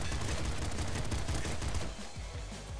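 Gunfire from the bouncer revolver in the game Nuclear Throne, heard as a faint, dense stream of rapid shots that fills the short clip and thins out near the end.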